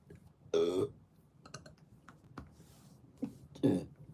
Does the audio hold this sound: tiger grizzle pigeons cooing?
no